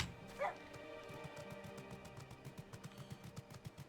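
A dog barks a few times amid game sounds in Final Fantasy XIV: Endwalker, with quick, regular yips that grow more insistent toward the end, faint and fairly near under a low background.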